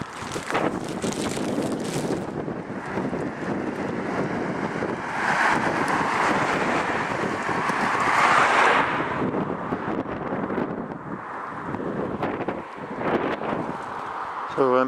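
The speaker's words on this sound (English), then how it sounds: "it's bloody windy this side" Strong gusts buffet the microphone with loud, rumbling wind noise that swells and eases throughout, with a person talking intermittently underneath.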